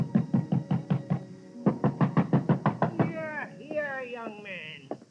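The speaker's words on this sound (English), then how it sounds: "But ringing his bell and pounding on his door got me nothing." A radio-drama sound effect of a fist pounding on a door: a rapid run of close, solid knocks, a brief pause, then a second longer burst. A voice speaks right after.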